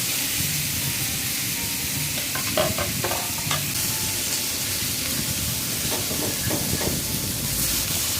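Rohu fish fries in hot oil in a home kitchen, giving a loud, continuous crackling sizzle with a few soft clinks and scrapes as the pieces are turned.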